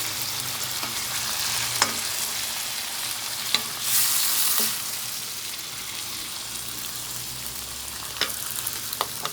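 Beaten egg poured into a hot pan of stir-fried gourd with Thai pork sausage, a steady close sizzle with occasional sharp pops and a brief louder hiss partway through.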